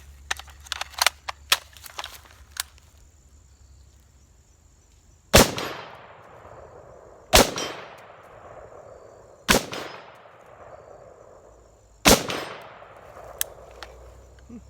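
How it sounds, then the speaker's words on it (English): Four sharp gunshots at an outdoor range, spaced about two seconds apart, each followed by a ringing decay that fits bullets striking a steel target, preceded by a few lighter clicks and taps. "But it is ringing steel out there."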